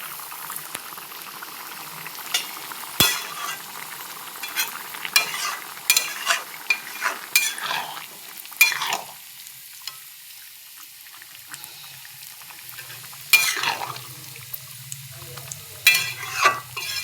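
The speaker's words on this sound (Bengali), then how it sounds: "এই যে করলা ভাজাটা বসিয়েছি, কিছুটা হয়ে গেছে আর কিছুটা হচ্ছে" Bitter gourd fries in a pan on the stove alongside a bubbling pot, with a continuous soft sizzle, irregular scraping stirs and a few clinks heard close, with no talking.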